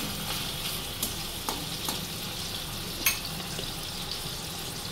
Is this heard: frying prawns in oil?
yes